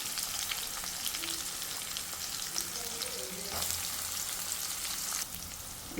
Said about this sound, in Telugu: ఇప్పుడైతే ఆనియన్స్ని వేయించుకున్నాం.